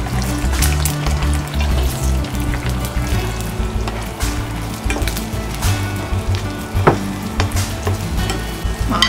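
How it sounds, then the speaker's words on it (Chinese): Egg poured into smoking-hot chili oil sizzles loudly and steadily, with stirring and clinks against the pan breaking up the constant frying hiss; no voices. "酸辣油，油温一定要冒烟儿，才能倒入鸡蛋"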